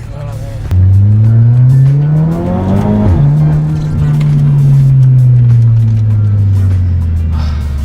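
Audi S3 Quattro with a Stage 4 tune accelerating hard, its engine note climbing loudly through a gear, dropping at the shift and pulling again, close up and sustained, with faint voices underneath.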